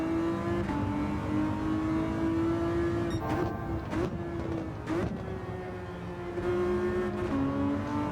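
A Ferrari FXXK race car in Gran Turismo 7 at Sardegna Road A holds a loud, steady high-revving engine drone throughout, with brief dips as it shifts or lifts off the throttle.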